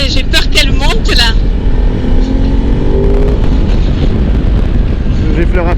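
A Ducati Desert X Rally motorcycle engine revving and pulling up in pitch, loud and close with wind buffeting the microphone, while a rider talks over the engine at the start.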